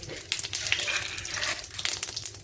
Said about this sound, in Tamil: எண்ணெய் காஞ்சிச்சா பார்த்துங்க. காஞ்சிச்சுன்னா சீரகம் போட்டுங்க.